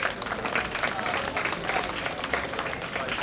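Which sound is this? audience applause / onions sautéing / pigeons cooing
audience applause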